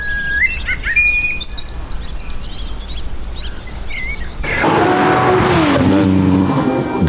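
A Porsche 928 engine bursts in loud and close, revving with a rising tone after several seconds of birdsong.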